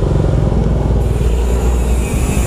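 A Bajaj Dominar 400 UG2 motorcycle fitted with a custom 61mm exhaust pipe idles nearby, a loud, steady low rumble with a fast throbbing pulse that continues unbroken, no talk over it.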